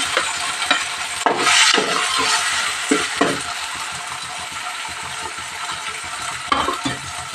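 Tomatoes frying in a pan while being stirred for a Telugu-style mutton curry, giving a steady hiss with repeated scraping, clattering strokes of a spoon, close and fairly loud, with no talking.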